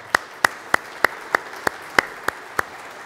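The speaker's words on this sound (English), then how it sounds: "join me with a little round of applause" Slow, evenly spaced claps ring out from a church congregation, about nine sharp hits roughly a third of a second apart, fairly loud and clean with no talking over them.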